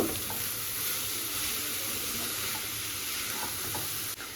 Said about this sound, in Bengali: তো এবারে হালকা হাতে ভালো করে গাজরটাকে একটু হালকা করে ভেজে নেব